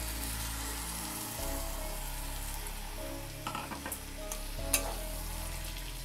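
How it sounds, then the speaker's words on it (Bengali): Banana stem paste being stirred and fried with coconut and spices in a pan, a continuous close sizzle with scraping stirs and a few sharper clinks of the utensil. "এবার থোড়টা ভালো করে আমি মিশিয়ে নেব মশলার সাথে।"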